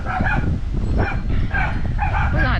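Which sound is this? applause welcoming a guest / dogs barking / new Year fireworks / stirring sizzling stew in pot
dogs barking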